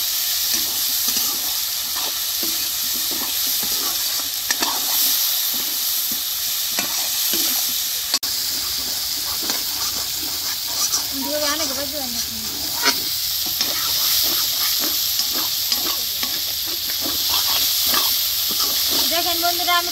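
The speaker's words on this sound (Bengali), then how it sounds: "আমি কত সুন্দরভাবে তেলের মধ্যে ভেজে নিচ্ছি" Amra (hog plum) and tomato fry in hot oil for a sour lentil dal seasoned with turmeric and salt, a loud continuous sizzle with stirring scrapes throughout, and a voice briefly audible underneath.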